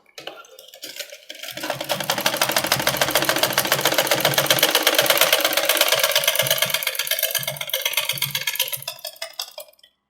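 A sewing machine stitching puff sleeves whirs in a fast, even, rapid ticking run, speeding up to a steady loud hum before slowing and stopping, close by and alone.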